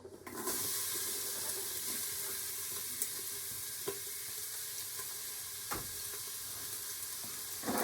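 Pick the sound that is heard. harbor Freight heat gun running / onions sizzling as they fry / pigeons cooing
onions sizzling as they fry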